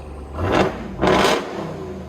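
A supercharged 6.2-litre HEMI V8 in a RAM TRX pickup, mufflers cut off, blips twice in quick succession, each rev a loud raspy roar that rises and falls back to a rumbling idle.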